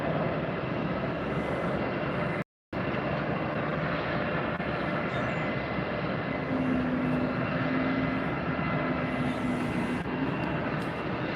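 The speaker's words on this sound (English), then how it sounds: "Delta Airbus arrival there" A Delta Airbus jet arriving at Tampa Airport, a steady broadband engine roar with a faint low tone emerging later, continuous apart from one brief dropout.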